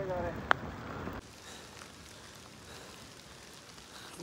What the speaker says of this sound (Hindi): ऊपर से बारिश हो रही है